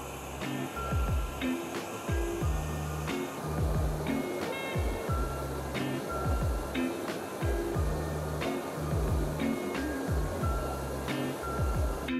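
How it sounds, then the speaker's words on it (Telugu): Flowing water beside a village trail near Kareri in Himachal, a continuous broad rush that stays fairly even and moderately near, with no talking and faint higher chirps scattered on top. "ఐ హోప్ మీకు కూడా వాటర్ సౌండ్ వినిపిస్తుంది అని అనుకుంటున్నాను."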